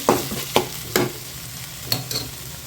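Capsicum fries in a pan for an egg stir-fry as a utensil stirs it, giving five or six short scraping strokes over a soft, steady sizzle, close and clear.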